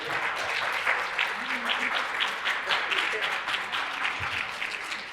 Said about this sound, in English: Mother's applauding over there.